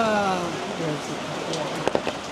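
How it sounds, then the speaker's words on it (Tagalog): Heavy rain pours down at Lake Como in Varenna, Italy, a dense, steady hiss that fills the clip, with a voice speaking near the start and a few sharper spatters toward the end. "Grabe ang lakas ng ulan."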